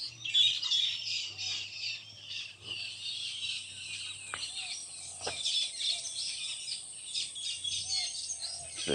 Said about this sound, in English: The tree that I often show with the heaps of birds in it. There's 4 trees here, full of nests. I think they're starlings